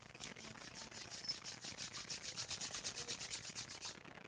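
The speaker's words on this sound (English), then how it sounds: "Slowly bring your hands together and rub them with each other." A pair of hands rub briskly against each other during a guided relaxation exercise, making a faint, dry swishing that pulses in quick, even strokes throughout, with no talk over it.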